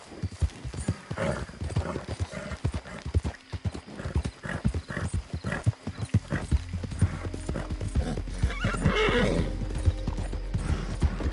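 Horse hooves clip-clopping in a fast gallop rhythm in Red Dead Redemption 2, followed by a loud neigh and whinny near the end, with a faint voice briefly underneath.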